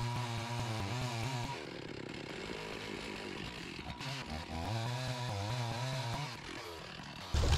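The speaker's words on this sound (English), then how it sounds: "I'm going to move the saw left and right to define hinges" A chainsaw plunge cutting into a big oak tree being felled for lumber roars up close, its engine rising and dropping in pitch as the bar bites, eases and bites again.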